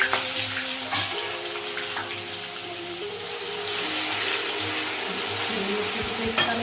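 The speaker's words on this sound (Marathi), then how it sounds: "त्यामध्ये आपण तयार केलेली हिरवी मिरची पेस्ट आपल्याला घालायची फ्राय करायची" Green chili paste fries in hot oil in a pan after curry leaves, a steady sizzle with faint stirring clinks and scrapes close by.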